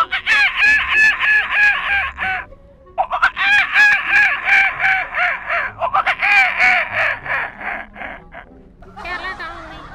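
A mimicry artist imitates a kookaburra with his voice, loud rapid cackling bursts in long repeated runs separated by brief pauses.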